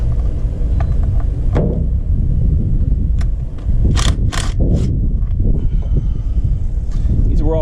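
A ratchet with a deep 10mm socket works on the valve cover bolts of a 4.0 engine, its quick clicking bursts heard close under a loud, constant mechanical rumble.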